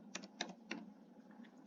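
Keys clicking on a computer keyboard while entering a spreadsheet formula, a few quiet, irregular keystrokes in short bursts with pauses between them.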